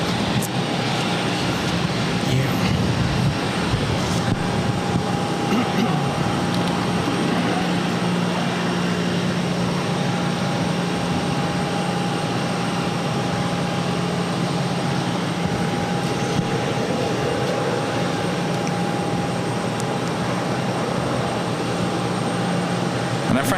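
Aircraft engines run at Boston Logan airport as a continuous, loud, even drone with a sustained whine running through it. The noise holds steady for the whole stretch with no clear voices.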